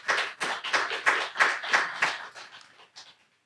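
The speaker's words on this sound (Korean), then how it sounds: "우리 박수 한번 하고 힘내세요." A church congregation claps along in a steady rhythmic beat of about nine even claps, fairly close and crisp, trailing off at the end with no talking.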